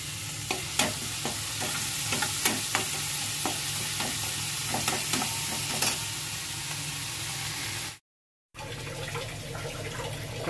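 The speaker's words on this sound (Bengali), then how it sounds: "রসুন পেঁয়াজ আদা বাটা ভালো করে ভেজে নেব" Garlic, onion and ginger paste frying in a pan, a steady close sizzle broken by regular scraping stirs, with a brief dropout near the end before the sizzling resumes.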